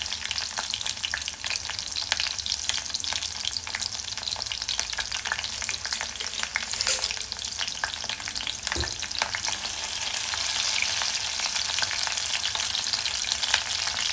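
Chillies and garlic sautéing in hot oil for a mixed leafy greens dish, a loud continuous sizzle and crackle with occasional stirring clatter throughout, no speech.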